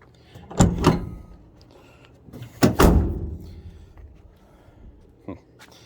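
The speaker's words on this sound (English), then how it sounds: "Door shuts." Two heavy door slams on a 1977 Dodge Ramcharger, each shutting and latching with a loud solid thud and ringing metal tail, spaced a couple of seconds apart, followed by a lighter knock.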